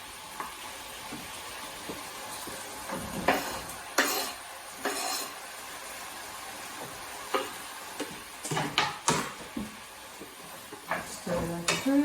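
Bean chilli con carne stirred in a pan, with a low sizzle under repeated scrapes and knocks of a spoon against the pan, close and uneven in rhythm.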